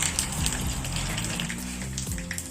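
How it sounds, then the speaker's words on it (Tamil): Dense crackling and popping of mustard seeds and cumin spluttering in hot oil for a tempering, continuous and close, with rapid irregular pops throughout. "கடுகு கடுகு பொரியும் சீரகம்"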